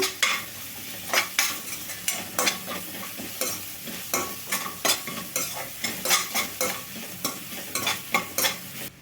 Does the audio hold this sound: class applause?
no